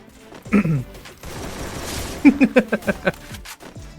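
Bursts of charge-gun fire in Free Fire, with a short burst early on followed by a rapid series of sharp shots, loud and close, with faint muffled voices between.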